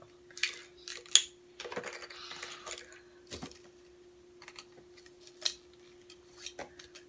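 Scissors snipping plastic straws for a craft, giving sharp, scattered clicks and cuts at uneven intervals, close but fairly quiet, with no talk.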